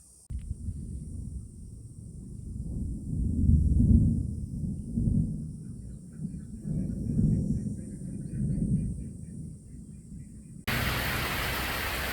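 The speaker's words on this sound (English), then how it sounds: "I can hear thunder in the distance." Distant thunder rolling in slow, deep rumbling swells that rise and fade over several seconds, faint and low, before a steady hiss of rain or noise cuts in near the end.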